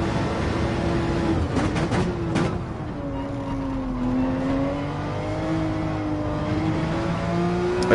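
Porsche 911 RSR race car engine in Gran Turismo 7 at Dragon Trail Seaside, a steady loud drone whose pitch climbs and settles as the throttle is held, with a brief burst of higher-pitched crackle early on.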